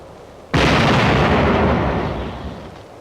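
A single World War II artillery round fires with a loud, sudden boom, and its rumbling blast then decays slowly over the following seconds. No voices are heard.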